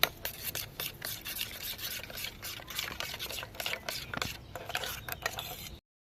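Wet, squelching rubs and scrapes repeat in quick irregular strokes as okra is mixed by hand, close up, then stop abruptly.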